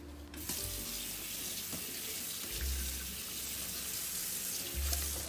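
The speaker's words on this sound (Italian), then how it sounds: "Risciacquo poi semplicemente con acqua." A kitchen sponge is rinsed under a steadily running tap, giving a continuous close splash and hiss of water with slight shifts as the sponge moves in the stream, and no speech.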